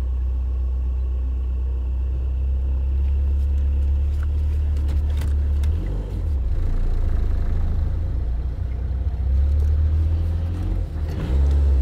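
A car driven by a learner driver, the engine rumbling low and steady close by with slight revving swells throughout, with no one talking.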